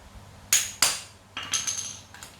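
Wooden pegs being hammered in to build a small bridge, with about four sharp, quiet knocks spaced unevenly over a couple of seconds in a calm indoor setting.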